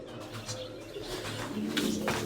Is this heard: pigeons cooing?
yes